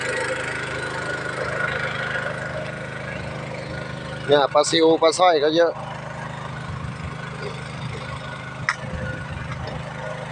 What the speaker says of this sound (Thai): เราใช้เครื่องเล็ก ใช้เครื่องยนต์เล็ก